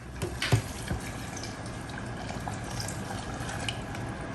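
Water poured from a beaker over saturated coffee grounds in an OXO cold brew maker, with a soft splash at the start and then a steady, quiet trickling and gurgling that continues throughout.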